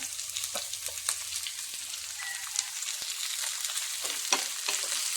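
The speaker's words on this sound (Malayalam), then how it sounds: "കോവയ്ക്ക അരിഞ്ഞതും സവാള അരിഞ്ഞതും പച്ചമുളക് അരിഞ്ഞതും കൂടി ആ എണ്ണയിലേക്ക് ചേർത്ത് കൊടുക്കാം" Chopped ivy gourd, onion and green chilli fry in hot oil with a steady, close sizzle, broken now and then by the scrape and clack of stirring. No voices are heard.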